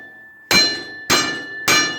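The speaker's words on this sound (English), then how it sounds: "get our hammer and just ding that edge back in" A hammer strikes the bent edge of a metal wheel rim three times at an even pace, each blow a loud, ringing metallic clank that decays before the next.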